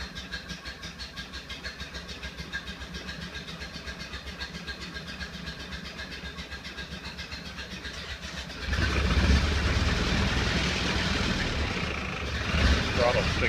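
A 1931 Ford Model A engine with sticking throttle and timing being adjusted starts and runs, a steady idle giving way to a louder, rougher running roar after a few seconds, with talk alongside.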